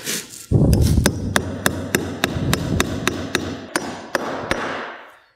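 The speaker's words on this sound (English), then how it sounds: "drive that nail home" A hammer drives a nail into a wooden deck ledger board with a series of sharp, evenly spaced strikes, about a dozen over five seconds, loud and close with no talking.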